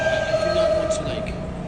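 A New York City subway train rumbles steadily along, with a sustained tonal whine and broadband rail noise filling the car, while faint talk sits underneath.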